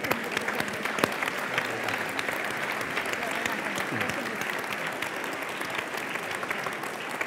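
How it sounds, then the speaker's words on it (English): A conference audience gives itself a round of applause at a Global Systems event, dense continuous clapping from a large crowd, steady and fairly loud throughout, with a few sharper claps standing out. "And give yourselves a round of applause"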